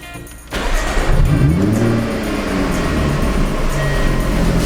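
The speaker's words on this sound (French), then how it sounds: "Je vais quand même la démarrer au cas où" A Jaguar F-Type V6 340 hp sports car, just repaired for airbag and braking faults, starts up with a sudden loud engine catch, then a brief rev rising and settling into a steady, close idle rumble.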